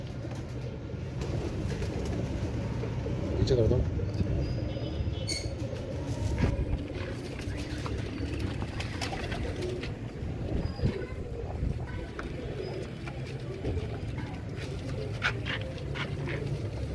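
Pigeons coo steadily in a loft, a dense low murmuring chorus that runs throughout, with scattered wing and scuffling noises and brief speech from a man nearby.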